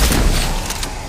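A loud, close explosion from Shadow of the Tomb Raider, a deep booming rumble that fills the whole moment and slowly tails off, with no talk over it.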